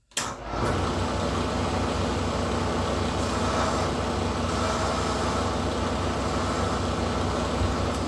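A metal lathe or mill turning slowly on back gear at about 120 to 130 RPM, with cutting lube applied during fabrication of a home gym squat rack; a steady, close mechanical hum and whir that starts abruptly and runs continuously.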